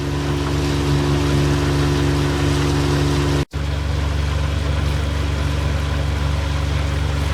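The motorboat Nessie passes nearby with a steady engine drone over wind and water noise, holding a constant level apart from a brief dropout midway; no one speaks.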